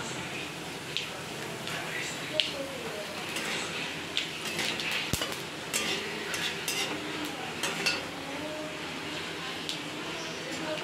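Whole cumin seeds fry in a pan with a soft, steady sizzle, punctuated by light clinks and scrapes of a utensil against the pan, fairly quiet overall.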